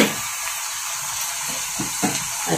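Boiled, drained cabbage dropped into hot oil in a pan, giving a steady soft sizzle with a few faint stirring scrapes, heard alone without talk.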